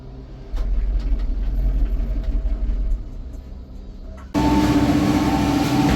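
A cable car at Langkawi, Malaysia, rumbles and clatters along in a low, steady drone, then the sound switches abruptly to a brighter, constant mechanical hum.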